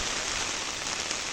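Heavy rain falls on a road, a loud, unbroken broadband hiss that holds constant with no distinct drops standing out and no voices.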